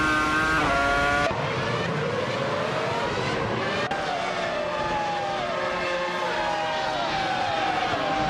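Race cars in a racing game roar with steady, high-revving engines, pitches sweeping up and down as several cars jostle closely, with a continuous loud drone throughout.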